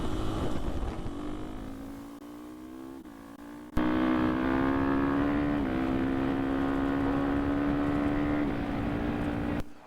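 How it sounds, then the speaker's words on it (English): A KTM 450 EXC dual sport motorcycle engine revs up steadily, drops at a quick shift, then holds a loud, close, rising tone with a slight dip before cutting off at the end; no talking. "All right, we're on 450 EXC, quick shift time."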